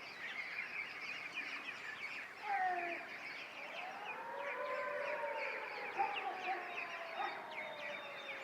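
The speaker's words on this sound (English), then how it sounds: "That siren is for the swing bridge opening." A wailing siren rises and falls over steady background noise, sustained and moderately distant, with its pitch sweeping slowly up and down.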